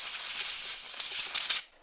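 Compressed air hisses loudly and steadily across an Ethernet switch power-supply circuit board for over a second, then cuts off abruptly into near silence.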